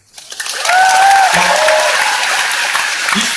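A studio audience at a Korean music talk show breaks into loud applause for a veteran singer, the clapping swelling quickly and holding steady, with faint cheering tones and a voice near the end.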